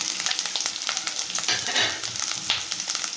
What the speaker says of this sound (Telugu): ఇది పచ్చివాసన పోయిందాక కాసేపు వేయించుకోవాలి ఇప్పుడు పచ్చిమిరపకాయలు ఉల్లిపాయ ముక్కలు